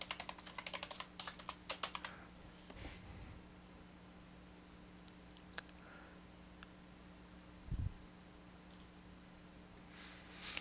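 A burst of quick, close keyboard clicks as a password is typed on a computer keyboard, followed by near silence broken by a few isolated taps and a faint hum.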